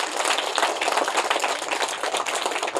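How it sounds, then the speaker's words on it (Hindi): An audience applauds a young girl, with dense, even clapping filling the short stretch at steady loudness. "थोड़ा एक बार ताली बजाइए आप लोग, तो तेज बजाइए"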